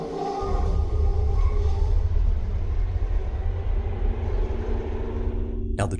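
Subway train rushing through a dark tunnel without stopping, a loud continuous low rumble and roar with rattling that holds steady, then cuts off abruptly near the end.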